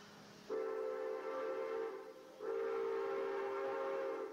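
Steam locomotive 3415 sounds two long, steady whistle blasts at moderate distance, the first cut off briefly before the second begins, with no talk.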